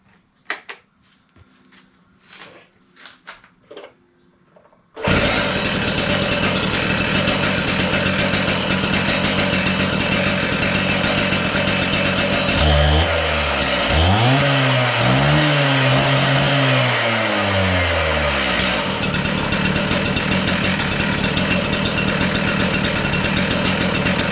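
Stihl TS500i cut-off saw engine starting after a few faint clicks, then running loud and steady close by, with a brief revving swell midway before settling back to a constant roar.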